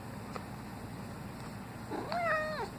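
A cat gives a single clear, drawn-out meow near the end, after a couple of seconds of quiet room noise.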